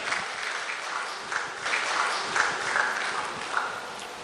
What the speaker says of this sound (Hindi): इस्तकबाल करें ज़ोरदार तालियों में।